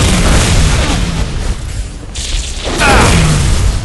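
A bomb detonates in a Halo Reach Grifball match, a loud booming blast with rumbling debris that dips briefly and swells again, filling the whole moment without any talk.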